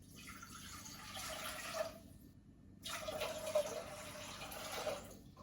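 Water poured into a two-cup measuring cup while cooking at night, a steady faint stream in two pours separated by a short pause, quiet and close.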